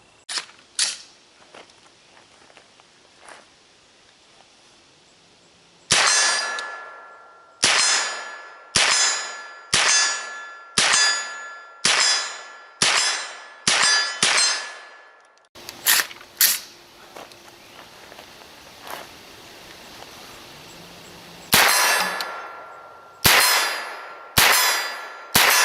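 9mm straight-blowback carbine rounds striking steel targets downrange, a few scattered light clangs and then a steady run of sharp ringing metallic hits, each one decaying briefly, with a second burst of rapid impacts near the end.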